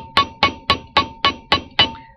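Seven crisp, evenly spaced metallic taps of a small hammer on a wire-wrapped jewelry loop, each ringing briefly, close and alone.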